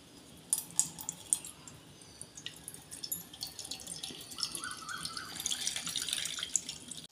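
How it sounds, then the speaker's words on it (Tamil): Water being strained for pani puri trickling and splashing close by, with a few sharp drips early on, then a steadier pouring flow building toward the end. "இந்த தண்ணியை வந்து நல்லா வடிகட்டி எடுத்துக்கலாம்."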